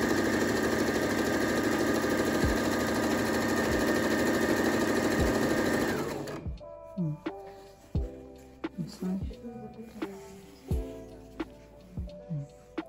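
A household sewing machine runs with its pedal pressed, a loud steady whirring drone for about six seconds that stops abruptly, followed by scattered clicks and knocks of handling the machine.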